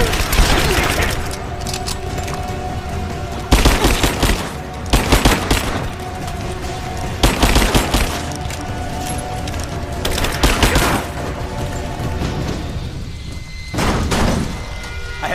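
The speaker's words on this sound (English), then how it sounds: "Laying down covering fire!" Covering gunfire in Rise of the Tomb Raider: repeated loud bursts of automatic fire with sharp cracks and booms, recurring roughly every couple of seconds over a steady droning background for the whole stretch.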